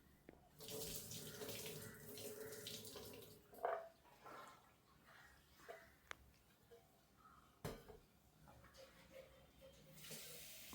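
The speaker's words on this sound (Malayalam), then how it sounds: "കുക്കറിലോട്ട് കടലയിട്ട് വെള്ളം ഒഴിച്ച്" Water runs from a tap into a pressure cooker holding soaked chickpeas, a steady splashing gush that pauses and resumes with a few clunks of handling in a kitchen.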